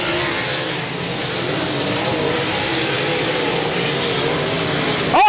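A-Mod race cars run nose to tail down the back straightaway in a Tom Wilson Memorial dirt-track race, a steady loud broadband engine roar held throughout, swelling sharply at the very end.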